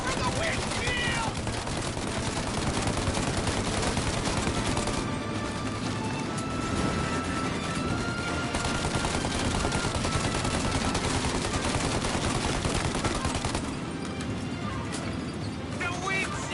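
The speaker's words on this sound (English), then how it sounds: "Shoot out the windshield!" Rapid gunfire in a Mafia video game shootout aimed at a car windshield, dense bursts running loud and continuous throughout, with voices shouting over the shooting.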